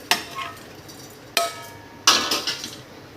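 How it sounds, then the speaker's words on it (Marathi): Green chillies tipped into a hot pot with curd over a medium gas flame: three clattering drops, the last followed by a short hiss of sizzling, close and fairly quiet. "आता यामध्ये आपण मिरची टाकून घेऊ"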